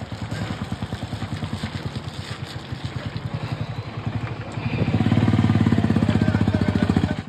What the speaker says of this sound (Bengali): বাইক নিয়ে এই রাস্তা দিয়ে আমি যাব।